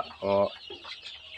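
A domestic desi chicken kept indoors under a heating bulb gives one short, loud cluck, followed by faint, softer fowl murmurs nearby.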